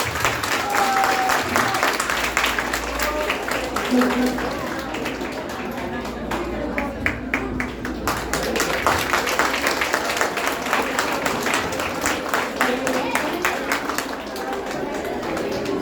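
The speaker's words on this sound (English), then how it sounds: "Please give a big round of applause." A big round of applause rises from the audience at a school silver jubilee prize ceremony, with a background voice or music now and then underneath it.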